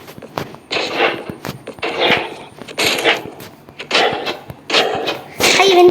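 Firecrackers set off outdoors burst in a run of loud, crackling bangs, several sharp reports bunched into short clusters with brief gaps between them.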